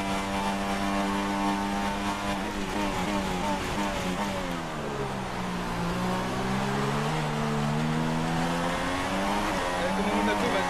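A Ferrari race car in an F1 video game at the Abu Dhabi Grand Prix screams under acceleration, its engine note rising steadily through the gears, loud and continuous, with the pitch dipping and climbing again midway.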